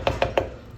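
Mustard bottle beaten against a bone to shake out the mustard during cooking: three quick dull knocks in an even rhythm, close and moderately loud.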